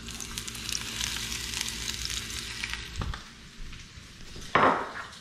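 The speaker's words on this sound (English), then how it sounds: "our vegetables are ready to get fried. And put the spinach in there" Vegetables and spinach fry in a hot pan with a steady, close sizzle, broken by a stir around three seconds in and a sharp burst of crackling near the end.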